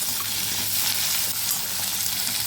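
Spices and cashews sizzle in a hot oiled pan while sautéing for an egg gravy, a steady, close, continuous frying hiss with no talk.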